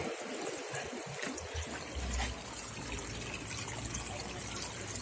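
Spring water trickling and splashing steadily over stones worn into pools, a continuous gentle flow heard close by with no voices.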